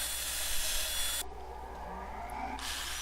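Nylon brush scrubbing stringy bark off a black walnut bowl, a close, steady dry rubbing that briefly thins out, then resumes.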